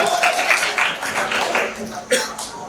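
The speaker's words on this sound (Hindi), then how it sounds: "जोरदार तालियां" Audience applause at an organisational workshop in a hall, a broad wash of clapping that swells and fades over a few seconds, with a sharp louder clap near the end and some voices mixed in.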